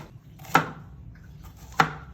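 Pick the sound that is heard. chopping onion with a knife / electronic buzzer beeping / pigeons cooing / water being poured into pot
chopping onion with a knife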